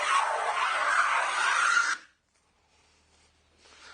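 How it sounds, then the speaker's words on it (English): Hand plane with a skewed blade taking a full-width shaving off cedar, one loud, steady rasping stroke lasting about two seconds, then near silence with a faint rustle at the end. "Now you notice the shavings come out the right hand side of the plane."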